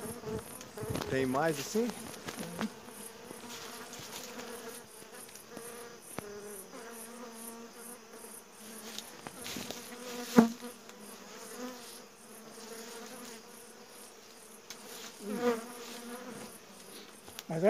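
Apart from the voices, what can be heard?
honey bees buzzing during honey harvest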